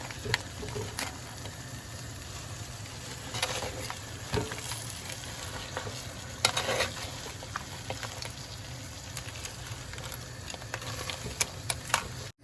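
Garlic and pepper are stirred in a frying pan for a coconut-milk sothi curry, giving a low, continuous sizzle broken by scattered scraping clicks of the spoon, steady and fairly quiet throughout with no talking.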